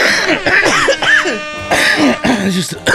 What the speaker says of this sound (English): I was coughing down the microphone, so I apologise for that.